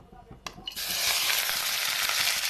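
Chopped onion drops into hot mustard oil in a kadhai and breaks into a loud, steady sizzle that carries through to the end, with no speech over it.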